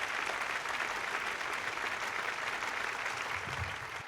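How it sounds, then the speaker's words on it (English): Sustained applause from a comedy club audience welcoming the next stand-up act, dense and steady clapping throughout, easing slightly toward the end. "Please give a big round of applause for the next act"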